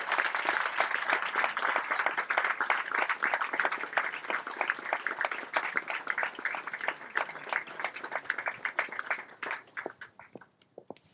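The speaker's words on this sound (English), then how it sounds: "let's give these new second lieutenants a round of applause" A large crowd at a military graduation and commissioning ceremony claps steadily for several seconds, a dense wash of applause that thins and trails off into a few scattered claps at the end.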